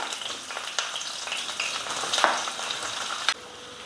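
Chopped large onions sizzle steadily in hot oil in a pan while cooking rava kichadi, a continuous close crackle with small stirring bumps throughout.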